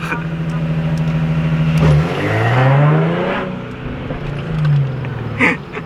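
A re-tuned Infiniti G37 sedan's engine idles with a deep burble, then revs up hard in a short, loud small launch, the pitch climbing before easing off and revving again.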